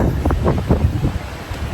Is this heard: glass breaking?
no